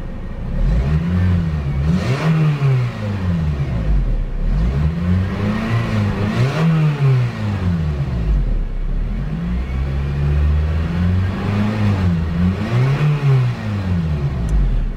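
Engine and exhaust of a 2005 Honda Civic Type-R revving repeatedly near the tailpipe, each throttle blip rising and falling in a wavy rhythm over a steady idle, with no talk.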